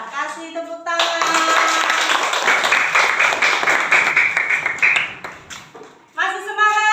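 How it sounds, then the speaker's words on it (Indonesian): Students in a classroom break into brisk, ragged clapping for about five seconds after a teacher's prompt, fading out unevenly, with voices talking before and after the burst. "Kasih tepuk tangan."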